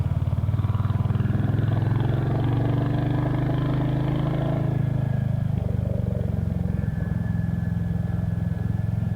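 A Triumph-style Spitfire motorcycle engine hums steadily while riding on a sunny morning, a loud continuous low drone with wind rush that eases slightly partway through.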